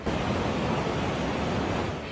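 The overflowing Santa Fe River in San Marcelino, Zambales rushes in a dense, steady roar of floodwater, loud and continuous throughout with no voices.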